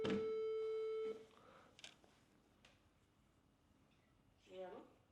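A telephone call tone sounds, a steady electronic ring lasting about a second at the start. Then comes near silence, with a brief voice near the end.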